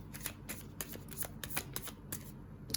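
Tarot cards being shuffled for a reading, a run of crisp riffling bursts and soft slaps repeating at a quick, uneven pace, close and fairly quiet.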